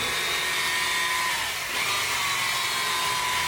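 A power polisher buffs the paint on an R34 Nissan Skyline, giving a steady, close whirring hiss that holds for several seconds and dips briefly midway.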